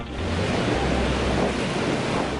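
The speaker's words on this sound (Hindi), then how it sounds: "पुल की छत को छूकर बह रही नर्मदा नदी के पानी के शोर को सुनिए।" Flooded Narmada river rushing just beneath a bridge roof, a steady heavy roar of churning water, loud and continuous with no voices.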